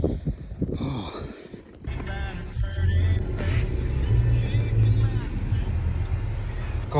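Car moving at night on a freezing winter road at -22°C, a steady low engine and road rumble with wind noise, rising and falling slightly over seven seconds while muffled voices speak inside.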